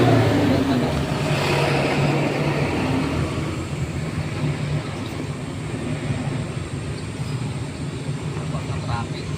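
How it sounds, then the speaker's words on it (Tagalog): Steady roar of traffic on a busy highway, broad continuous road noise with vehicles passing nearby, fairly loud throughout, with a voice talking over it. "Dito guys, nasa highway tayo. Ayun na yun, daming mga traffic dito palagi guys"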